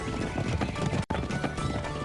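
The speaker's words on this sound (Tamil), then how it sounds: "அங்க பாத்தியா 7 குதிரைகளும் கிளம்பி போய்கிட்டு இருக்கு." Cartoon horses gallop off with hooves clip-clopping in a steady, busy patter that stays loud throughout, broken by a brief cut near the middle.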